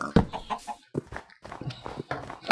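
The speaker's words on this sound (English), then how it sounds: "Can't believe I finally found some chickens!" Chickens in the game Minecraft cluck in a few short, close bursts over a couple of seconds, with faint footstep-like taps between them.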